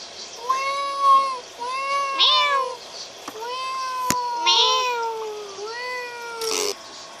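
Fifi, a pet cat, gives a series of clear, drawn-out meows, about six or seven close up with short gaps between them, and a sharp click and a brief noise burst in between.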